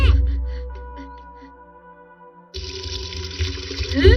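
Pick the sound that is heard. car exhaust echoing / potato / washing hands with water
washing hands with water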